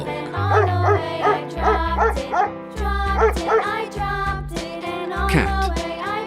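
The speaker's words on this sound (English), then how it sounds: "Dog." Dog barking from a farm animal sound set, a run of rhythmic yips and barks repeating over steady musical backing.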